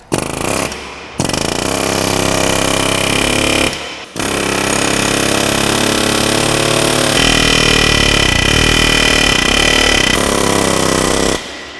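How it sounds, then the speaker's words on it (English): A bushing cutter tears through a truck's rear suspension bushing, a loud, close, hammering tool clatter in long bursts broken by two brief pauses. "got this bushing cutter on there now. I'm gonna see if I can come up into this and cut the bushing this way"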